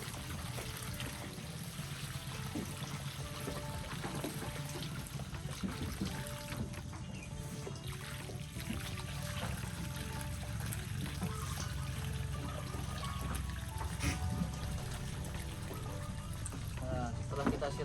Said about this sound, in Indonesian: seperti ini kita buang untuk airnya serta kotoran-kotoran yang ada di sini